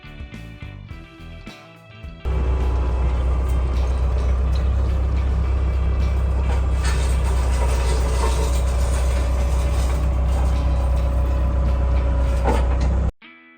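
Tractor 4320 heading out to side-dress a field, engine roaring loud and steady after a sudden start, then cutting off abruptly near the end.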